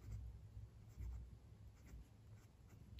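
A Jinhao X450 fountain pen with a medium nib, inked with sepia Diamine ink, writes on paper in soft, close scratchy strokes, faint and alone.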